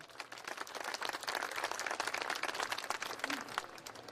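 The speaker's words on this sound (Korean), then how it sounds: "다시 한번 뜨거운 박수 부탁드리겠습니다" Steady applause from an audience at a lifelong learning festival after a calligraphy-themed dance performance, a dense even patter of many hands clapping throughout without pause.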